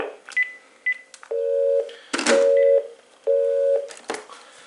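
A Panasonic KX-TG5243 cordless phone sounds its intercom call tone between a second handset and the main base unit: short high beeps, then three long two-tone electronic chirps in a steady repeating pattern, close and clear.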